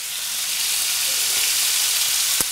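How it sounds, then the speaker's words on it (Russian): Pork fries in a pan for a Korean dish, giving a steady, loud, close sizzle with a dense hiss throughout and a faint tap near the end. "Когда вы мешаете мясо, которое упало на сковородку,"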